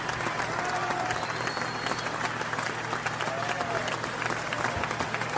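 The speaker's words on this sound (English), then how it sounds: "I don't think you can hear my round of applause right now." A round-of-applause sound effect plays back as a dense, steady wash of many hands clapping, with crowd noise, holding at an even level throughout with no gaps.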